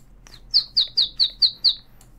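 Bird calls in the video game TerraFirmaCraft: a run of six evenly spaced bright chirps at a quick steady rhythm, clear and fairly close, with no talk.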